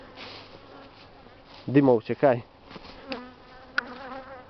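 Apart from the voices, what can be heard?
angry swarm of honeybees buzzing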